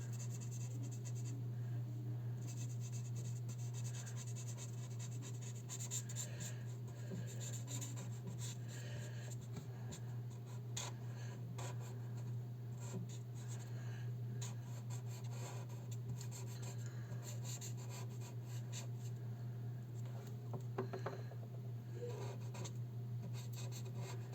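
A pencil draws and colours on paper in a faint, continuous scratchy rubbing that carries on with small variations in pressure, close up and alone.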